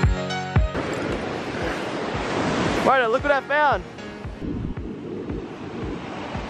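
Ocean waves and wind wash over a beach in a steady, loud roar of surf with gusty wind buffeting the microphone, while a person calls out briefly partway through.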